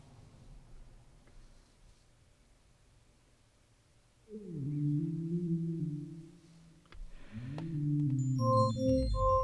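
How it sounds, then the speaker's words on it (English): A Woovebox synth track plays strange tones with pitch LFOs in scale mode. After a quiet start, gliding notes step up and down through a scale, then higher bleeps join near the end, moderately loud and close. "this track just has some strange sounds with some pitch LFOs on it to make it move up and down"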